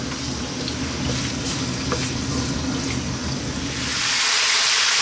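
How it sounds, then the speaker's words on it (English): Chicken wings coated in a dry rub frying in a pan for a chicken wing stew: a loud, continuous sizzle and hiss, close up and steady, swelling slightly brighter near the end, with no speech. "we're going to throw these around in the pan"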